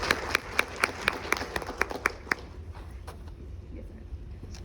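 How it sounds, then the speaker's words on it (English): Audience at a speaking event applauding as a speaker is introduced: a burst of scattered, distinct handclaps, fairly close and moderately loud, tapering off to a few isolated claps after a couple of seconds. "y'all give a round of applause to Dr."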